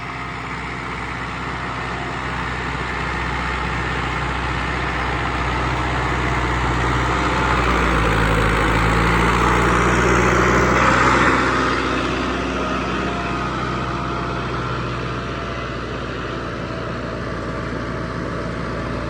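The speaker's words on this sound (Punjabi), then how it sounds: "ਹਲੇ ਤੱਕ ਟਰੈਕਟਰ ਦੇ ਆਵਾਜ਼ ਨਹੀਂ ਬਦਲੀ ਗਈ ਉਵੇਂ ਚੱਲੀ ਜਾਂਦਾ" A Swaraj 855 tractor engine runs steadily at a low, even rumble throughout, swelling slightly louder midway before settling back to a constant drone.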